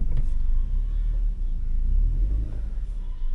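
A car reversing uphill with the clutch half released gives a steady low engine rumble with a vibrating, shuddering quality, loud and close, without talk.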